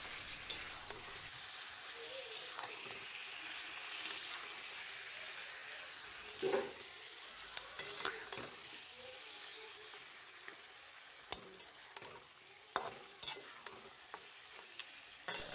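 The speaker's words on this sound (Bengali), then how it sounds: "মাংসের সাথে হলুদটাকে ভালো করে ফ্রাই করে নিতে হবে" Mutton and turmeric fry steadily in a pan, a continuous close sizzle broken by the scrape and knock of a spoon stirring the meat.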